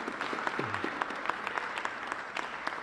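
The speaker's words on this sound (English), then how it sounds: "you can applaud" An audience applauds at a university event with the Illinois governor, a dense, even patter of clapping from a sizeable crowd that carries on steadily throughout.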